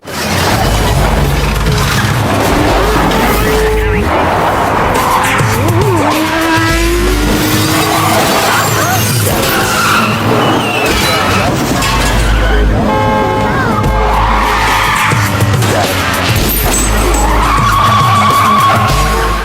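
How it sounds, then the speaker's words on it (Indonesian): Tires screech and skid repeatedly as cars swerve through a reckless chase in an action film, with engines revving, a few low booms, and other sounds layered between the squeals. "Han dan Tris pun bergegas kabur dengan mobil dan aksi ugal-ugalan pun terjadi"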